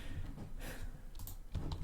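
A few soft keystrokes on a computer keyboard as a Stata command is typed, close but quiet over a constant room hum, with no one speaking.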